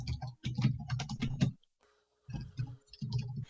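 Computer keyboard typing comes in quick bursts of soft clicking keystrokes, close and fairly quiet, with a brief pause of near silence midway before another burst of rapid keypresses.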